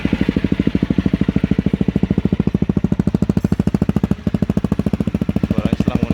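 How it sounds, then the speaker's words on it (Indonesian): A Honda CRF250L Rally motorcycle fitted with a racing exhaust idles close by, a loud, steady rapid thumping with a brief dip midway and no talking over it. "Suaranya setelah menggunakan knalpot racing, jadi lebih galak Mas"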